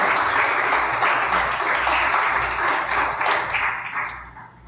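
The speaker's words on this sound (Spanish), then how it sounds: "Dale un fuerte aplauso al Señor por ello." Church congregation applauding steadily for several seconds, a dense patter of clapping that thins and fades toward the end, with a faint ringing tap near the close.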